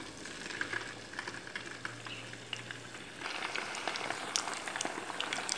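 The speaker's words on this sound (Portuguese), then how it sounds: "nosso quibe começou a fritar" Kibbeh frying in hot fat in a pan at home, a steady dense crackle and sizzle that grows fuller and louder partway through, with no talking.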